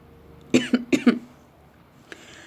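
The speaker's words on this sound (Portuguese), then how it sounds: "Eu tô com um pouco de tosse, porque aqui tá muito frio." Four quick coughs in a row, close by, followed by quiet and a faint click.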